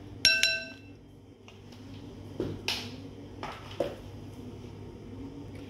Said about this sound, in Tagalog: Haluin lang natin siya, guys. Hanggang ma-dissolve yung kanyang sugar.